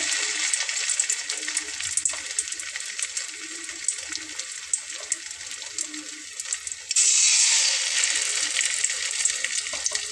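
Battered homemade snacks fry in a small amount of oil with a steady, bright, hissing crackle that grows louder and denser partway through as more pieces go in.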